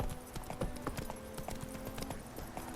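Horse hooves clip-clopping at a steady trot in The Witcher 3: Wild Hunt, an even rhythmic series of hollow knocks under faint ambient game sound, with no speech.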